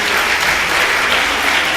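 Dense, steady applause from an audience at a professional career award ceremony, filling the whole moment at close range with no voices standing out.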